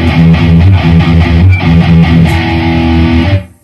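Electric guitar through a Tube Screamer overdrive on a Boss ME-80 plays a short, rhythmic riff of saturated notes, then a sustained chord that cuts off abruptly at the end.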